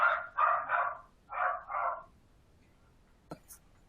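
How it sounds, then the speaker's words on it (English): A dog barks five times in a quick, close burst, two barks then a short pause and two more, followed by quiet and a brief click. The barking is loud and stands alone, with no talk over it. "Now you can blame the dog noise on me."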